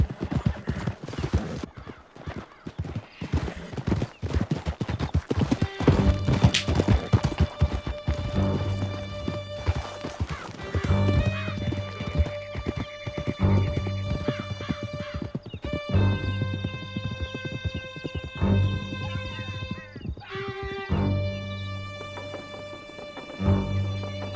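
Horses gallop in a Red Dead Redemption 2 chase toward a canyon, hooves clip-clopping in a steady rapid rhythm with occasional whinnies, set under a loud swelling orchestral score.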